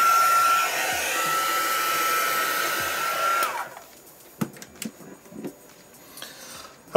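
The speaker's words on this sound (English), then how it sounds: "So I'm just going to give that a heat blast" A heat gun blasts a steady roar of hot air over wet paint on a circular art journal page for about three seconds, then cuts off, leaving quiet handling noises and small clicks.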